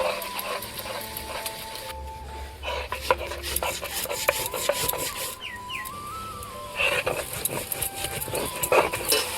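Ginger is ground into a paste, probably on a grinding stone, with repeated rough rasping and rubbing strokes close by. Tonal mechanical whines and a low hum run behind the grinding, and no one talks.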